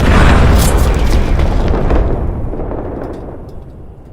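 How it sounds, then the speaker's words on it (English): A massive, loud explosion of the British battleship HMS Hood roars out at once, then rumbles and slowly fades over several seconds. "You can see in the distance the mighty British ship simply exploding."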